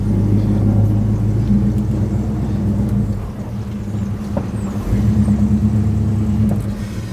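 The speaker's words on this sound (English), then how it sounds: "So this is our first drive in the Chevelle" A Chevrolet Chevelle's engine rumbles steadily from inside the car as it drives, a loud low drone that dips briefly midway and then swells again, with no talking.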